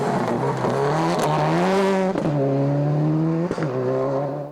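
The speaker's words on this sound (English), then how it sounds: "The familiar sound of the Super 2000 of Swede Patrick Sandel Skoda took to the gravel" A Skoda Super 2000 rally car screams close by on gravel, revving hard and shifting through gears with sharp pops and crackles between pulls.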